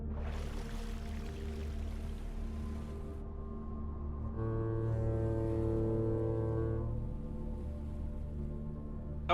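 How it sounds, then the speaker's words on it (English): A ship's foghorn in Stormworks sounds a long, sustained tonal blast over rushing water, its pitch layering and swelling midway before settling, loud and continuous with no talk. "I wish I could change the tone of the foghorn."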